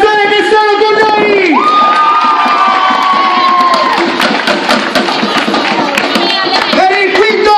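Crowd at a small-town carnival parade in Grazzanise cheering and shouting, with children's voices and a whistle-like tone, loud and dense throughout, with scattered claps.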